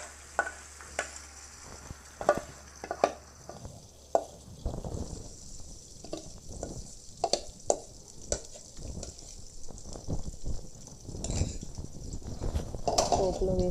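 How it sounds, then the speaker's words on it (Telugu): Tomato chutney stirred into a hot tempering in a pan, with scraping and light sizzling that runs steadily with a few clinks of a spoon against the pan, close and moderately loud, alongside occasional talk. "ఈ పచ్చడి మొత్తాన్ని పోపులో వేసేయండి."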